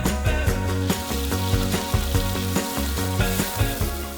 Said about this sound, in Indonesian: Kemudian ditumis bersama bawang yang sudah mulai tercium wangi.